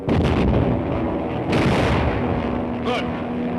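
Gunfire and booming blasts in a 1937 movie serial, heavy loud bursts at the start and again midway over a dense rumbling background, with a brief whistling sound near the end.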